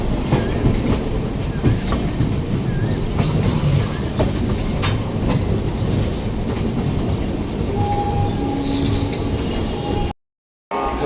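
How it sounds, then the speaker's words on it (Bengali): A train rumbles at Howrah Junction railway station, with loud continuous rolling and clattering wheels, a faint horn-like tone near the end and general station noise, then a brief cut to silence. "তো দেখুন এই মুহূর্তে কিন্তু আমরা হাওড়া জংশন স্টেশনে এসে পৌঁছালাম।"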